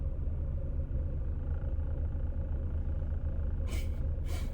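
Renault Twingo 2 idling with a fault, a steady low rumble and vibration heard from inside the car, with two brief higher-pitched rattling bursts near the end.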